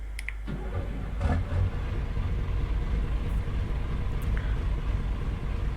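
An old Magirus Deutz truck's engine cranks briefly and catches, then settles into a loud, low, uneven diesel rumble that runs steadily close by.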